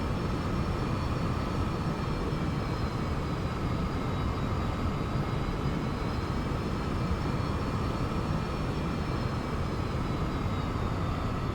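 Boeing 747 engines in the X-Plane 11 flight simulator during a banked turn, a steady broad roar with a faint high whine, even and continuous throughout with no talking.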